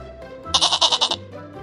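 A goat gives one loud, wavering bleat of about half a second, pulsing in rapid quavers, close and alone.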